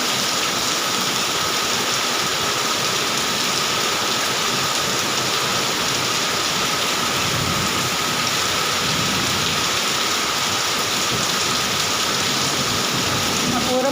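Heavy rain falling at night, a dense continuous hiss of drops on surfaces with no breaks, loud and close, with faint low rumbles underneath.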